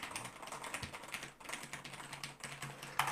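Fingers type on an Asus ROG Strix computer keyboard in a steady run of soft, close key clicks at a fairly quiet level, with no voices.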